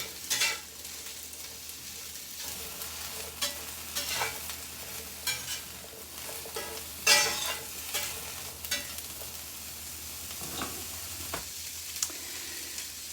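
Continuous crackling sizzle of ramen ingredients frying in a pan, with occasional stirring scrapes and pops throughout, fairly close and steady.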